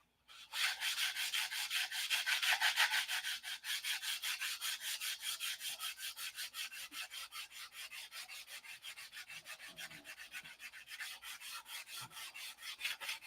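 An air file runs 3M body-shop sandpaper across a Cobra replica's car body, producing a steady, rapid rasping scrape with a fast pulsing rhythm, close and continuous for the whole stretch.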